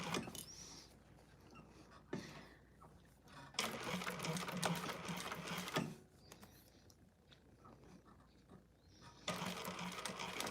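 A domestic sewing machine stitches a quarter-inch handbag seam, slowing toward a corner seam, running in several bursts of steady whirring separated by short pauses.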